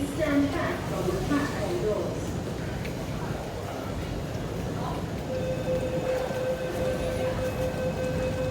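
A Japanese-built SP1900 train at Nam Cheong Station in Hong Kong gives a steady rumble and a rising electric whine, with a voice talking over it.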